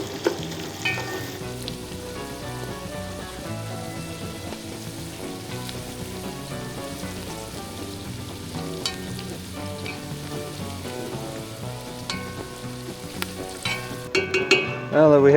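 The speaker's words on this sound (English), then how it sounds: "We'll stir up those onions, get them all coated, and we'll cook them until they turn translucent." Onions sizzle and fry steadily in a pan while being stirred, a constant soft crackling hiss with occasional scrape and clink of the utensil, no voices over it.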